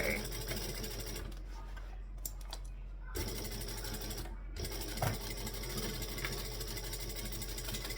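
A sewing machine runs steadily, stitching fabric and backstitching, with a close, even mechanical whir that stops for a couple of short pauses before resuming.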